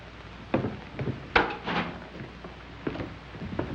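Wooden door being opened in a 1930s crime thriller scene, a few soft knocks and handle clunks with one sharper thud in the middle, faint and fairly close, no voices.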